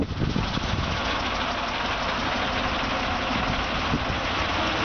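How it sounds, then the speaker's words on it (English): A 2002 GMC forestry bucket truck's engine runs with a steady, loud, low rumbling idle close by, unbroken for the whole stretch. "we're going to fire this truck up now and let you see that it operates from the truck engine"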